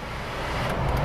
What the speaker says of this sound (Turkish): Klimamızın sesine buradan bakalım.